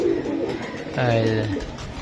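Silver-patterned pigeons give a low, drawn-out coo that swells briefly. Soft, indistinct speech runs around it.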